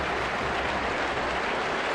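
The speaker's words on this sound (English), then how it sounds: "Good applause from the North End fans for their team." Preston North End fans applaud their team after a 4-1 Championship win over Sunderland in 2006/2007, a dense, steady wash of clapping from a large stadium crowd that holds level throughout.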